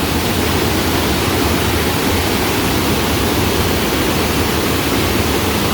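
Water pours over a dam on Neshaminy Creek in Northampton Township, a loud, dense, continuous roar heard up close with no break and no voices.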